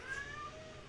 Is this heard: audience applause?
no